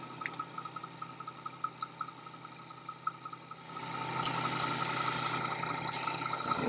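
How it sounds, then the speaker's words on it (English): A double-action airbrush sprays Vallejo Dark Earth paint onto a model railway depot building, a soft rhythmic ticking giving way to a loud, steady, close airy hiss that briefly stops and then resumes. "This is where having a double action airbrush is handy, because I can control both the amount of paint and the amount of air at the same time"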